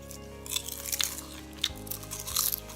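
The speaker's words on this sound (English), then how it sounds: "the best green crispy crisps you've ever eaten in your life. Crispy kale." Crispy kale crisps are eaten close up, giving a series of sharp crunching bites followed by chewing over about three seconds, with no talking.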